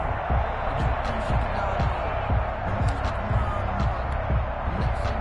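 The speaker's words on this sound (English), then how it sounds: "That just means this crowd's going to get even louder." Stadium crowd noise in a PS4 American football video game, a continuous loud roar of the crowd with rhythmic thumping stomps, heard under a commentator's voice.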